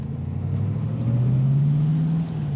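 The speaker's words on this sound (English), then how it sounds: "You can hear that V8 rumble right into second gear." A Morgan Plus 8 V8, a 2003 35th Anniversary Edition, rumbles as it accelerates into second gear, a deep rising engine drone heard close and fairly loud without talk.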